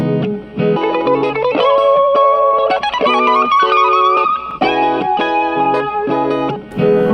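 A guitar loop races along at double speed on an MXR Clone Looper, with quick, bright, chirpy notes and effected chords pouring out continuously, loud and close.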